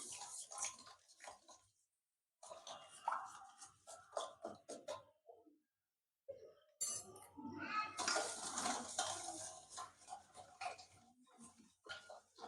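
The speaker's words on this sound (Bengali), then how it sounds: "এখন আমি ভালো করে মিশিয়ে নেব এই চিনির শিরার সঙ্গে" Metal spoon stirring ingredients into sugar syrup in a pot while making watermelon pudding, giving bursts of scraping clinks and taps with short silent gaps, then a longer busy stretch of clattering.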